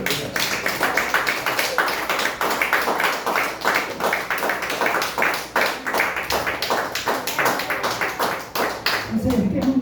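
A church congregation claps in a steady, rhythmic beat, many hands together, loud and continuous, with voices underneath.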